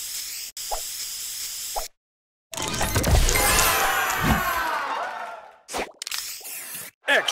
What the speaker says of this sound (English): Booster ready. Spray this.